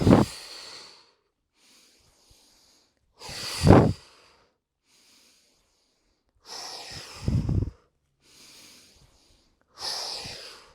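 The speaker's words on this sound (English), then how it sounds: "Inhale and exhale." Slow yoga breathing, four deep breaths through the nose and mouth, each a breathy rush followed by a softer fading exhale, close and alone, with quiet gaps between them.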